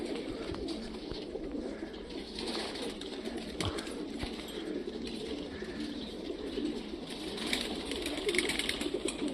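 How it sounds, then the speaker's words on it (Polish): A flock of racing pigeons returns to the loft on a hot, windy day, soft cooing mixed with wing flutters and scattered chirps against a steady outdoor background, fairly close and continuous. "O, tam idzie grupa gołębi, cisną."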